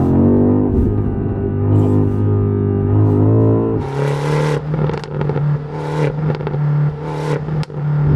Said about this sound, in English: if we get into full sport mode, downshift, we get some backfires